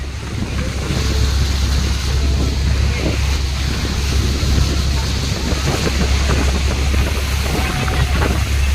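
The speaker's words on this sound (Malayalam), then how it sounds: "കണ്ടോ അടിപൊളി വെള്ളച്ചാട്ടമാണ്" Niagara Falls sends out a loud, continuous roar of falling water, a dense broadband rush with heavy low rumble and wind buffeting the microphone.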